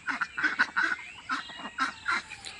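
Farm ducks call nearby in a loose chorus, a string of nasal quacks and honks overlapping in quick irregular bursts with no pause.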